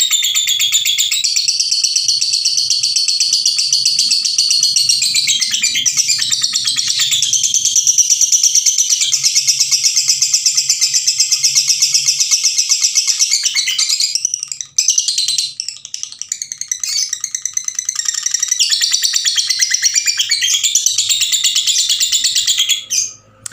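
Lovebirds chatter noisily and continuously in the background, a dense, high-pitched stream of chirps and squawks from several birds with a brief lull partway through.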